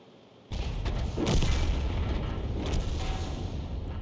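A heavy booming impact from a tank video game, as a shell strikes an armored vehicle and glances off. One sharp hit is followed by a sustained ringing rumble, loud and alone.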